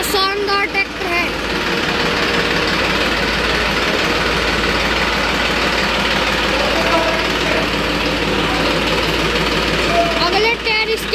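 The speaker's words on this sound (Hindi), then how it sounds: "यह है न्यूलैंड 3230। क्या शानदार ट्रैक्टर है।" A New Holland 3230 30 hp tractor engine idles steadily and loudly up close, a continuous knocking diesel rumble that holds throughout.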